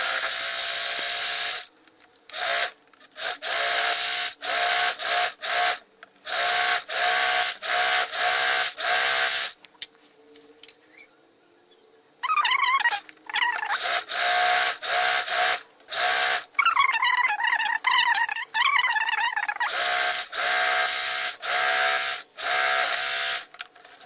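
A sewing machine stitches a frock made from a dupatta, running in short, loud bursts of rapid needle clatter separated by brief pauses, with a longer, smoother whirring run partway through.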